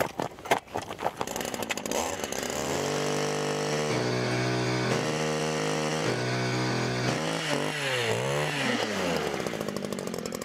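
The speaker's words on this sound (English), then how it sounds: "Within seconds of drilling through a lake ice bed of more than 15 inches" A powered ice auger drills through more than 15 inches of lake ice on an ice-fishing outing, its engine snarling loud and steady with shifting pitch after a few sharp opening bursts.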